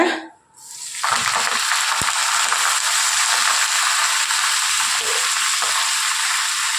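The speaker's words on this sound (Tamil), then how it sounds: "இப்போ நம்ம எடுத்து வச்சுருக்க கீரையை இதோட நல்லா வதக்கிடலாம்" Manathakkali greens dropped into hot oil burst into a loud, continuous sizzle after a brief pause, then hiss steadily with occasional stirring clatter.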